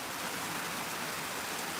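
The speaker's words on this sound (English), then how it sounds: "I can't believe that the sun's out in the middle of a downpour." Heavy rain from a hurricane's rain bands pours down in a dense, even hiss of falling water, steady and continuous throughout without any voices.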